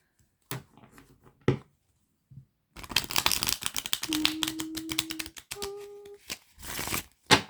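Cards are handled with a few taps, then shuffled in a long run of rapid crisp riffles close by, with faint tones and a final thump.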